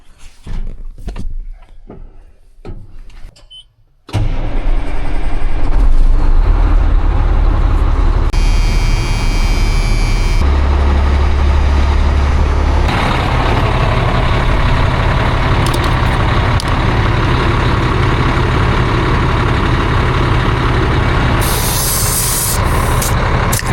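Truck engine running loud and close as the truck drives around a shop building, a steady drone with a brief hiss of air partway through, no voices.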